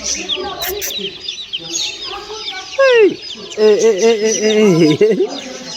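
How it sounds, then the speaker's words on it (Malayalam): Young chickens in a pet shop in Kuwait give repeated close clucks and peeping calls, loud and steady across the whole stretch, with stronger bursts toward the end and faint chatter in the background. "നമ്മുടെ തമിഴ്നാട്ടിൽ നിന്നൊക്കെ ഒരു വിൽക്കാൻ വരുന്ന അതേ രീതിയിലുള്ള കോഴിക്കുട്ടികൾ"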